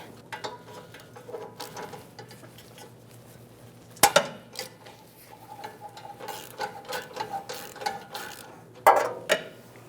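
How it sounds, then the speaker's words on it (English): A 14mm swivel socket on a long extension works an exhaust bolt loose under a 2003-2008 Toyota Corolla 1.8L, bringing sharp metallic clanks and a sudden loud crack as it breaks free, with scattered ratcheting clicks and tool rattles around it. "I'm just going to put my 14mm swivel on there and break it free"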